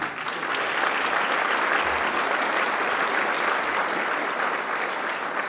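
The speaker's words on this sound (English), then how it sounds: "So I want to give all three of them a round of applause." A crowd claps steadily in a dense, even burst of applause that continues throughout without pause.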